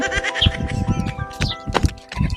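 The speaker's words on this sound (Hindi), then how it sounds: "चाचा बकरी तो लेके वे।" Goat bleating in a rural Haryanvi village scene, several wavering bleats in quick succession, close and fairly loud, with faint background noise and no clear talk.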